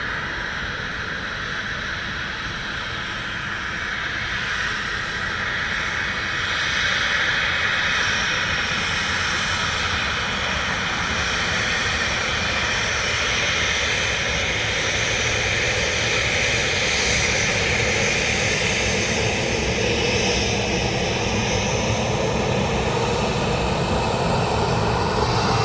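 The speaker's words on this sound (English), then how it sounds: "All 330s are now taxiing." An Airbus A330 taxis at Dublin Airport, its jet engines producing a loud, sustained whine and roar that swells slightly and holds steady throughout.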